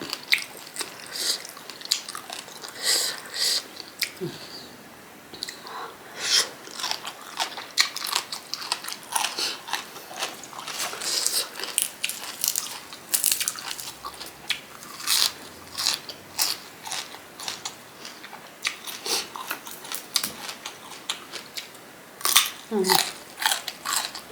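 Crispy pork eaten with Isan-style papaya salad gives a near, continuous run of crunchy bites and chewing, with brief voices now and then.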